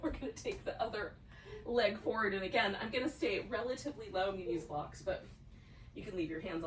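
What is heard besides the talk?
No everyday noise stands out behind the speech.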